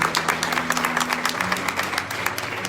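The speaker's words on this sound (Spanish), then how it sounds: "denle un aplauso a Cristo" A church congregation claps for Christ during a Spanish-language service, a loose patter of hands with steady background murmur and a low hum running beneath.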